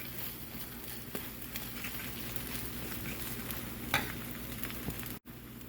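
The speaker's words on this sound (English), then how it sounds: "Start stirring them around with a fork." Eggs fry in a pan while a fork stirs them, a soft steady sizzle broken by faint scrapes and light clicks, fairly quiet and with no talking.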